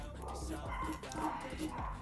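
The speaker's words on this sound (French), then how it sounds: "Je sais pas si vous entendez du coup les chiens." Dogs bark and yip outside an open window, moderately distant and somewhat faint, repeating irregularly against a low background murmur that may include a voice.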